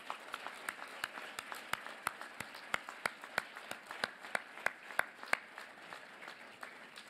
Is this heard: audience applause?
yes